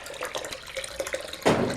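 Water gushes out suddenly from a hot water tank valve near the end after a stretch of faint clattering and low noise, a loud broadband rush like a tap opened fully.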